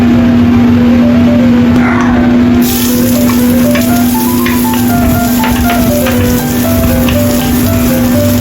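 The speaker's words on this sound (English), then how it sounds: "Stir-fry chopped ginger." Chopped ginger stir-frying in a pan, a loud, dense, constant crackling sizzle like rain on a surface, heard close with a steady hum beneath and faint light clinks.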